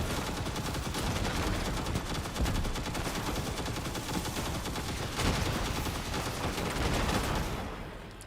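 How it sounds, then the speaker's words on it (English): Dense continuous gunfire from the Destiny 2 video game, rapid overlapping automatic bursts that stay loud and steady throughout, with no talk. "Covering fire has begun."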